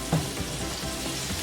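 Garlic dropped into a hot pan of oil while cooking Filipino kare kare, giving a steady soft sizzle throughout with a small burst of crackle as it goes in.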